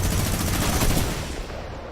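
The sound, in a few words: minigun firing in Fortnite video game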